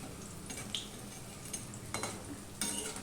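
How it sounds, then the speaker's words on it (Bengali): Lentil fritters (bora) frying in oil make a faint, continuous sizzle, broken by several soft spatula clicks and light metallic scrapes. "এইভাবে আমি এই বড়াগুলো ভেজে নিয়ে"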